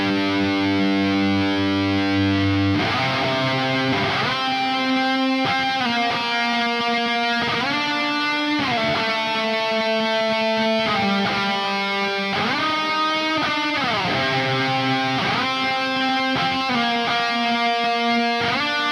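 Heavily distorted electric guitar run dry through the Neural DSP Archetype Gojira amp plugin with no delay or reverb, playing a loud, continuous riff of chugging chords that shift in steady rhythmic steps.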